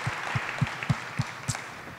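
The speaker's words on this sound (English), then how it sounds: "And you can clap for that." Clapping at a New Orleans education event comes as an evenly spaced series of about seven distinct claps, fairly faint and rhythmic, with no other voices over it.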